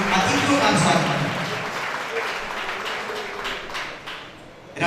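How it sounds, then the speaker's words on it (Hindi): An awards ceremony audience claps to welcome guests, steady applause that starts strong and gradually thins out, with some voices mixed into the crowd noise. "जोरदार तालियों से हमारे सभी अतिथियों का स्वागत करें।"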